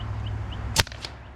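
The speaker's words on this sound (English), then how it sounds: "Boom. Air guns." Single air gun shot at a target: one sharp, snappy crack midway through, with a quick faint secondary tick just after, against a quiet outdoor background and no talking.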